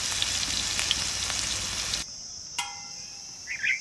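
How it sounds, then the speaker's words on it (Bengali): Hilsa fish wrapped in gourd leaves fry in hot oil, a steady dense sizzle for about two seconds that then cuts out, leaving quiet with a faint click and a brief rustle. "ততক্ষণে ওইগুলো আরো বাকিগুলো ভাজা হোক।"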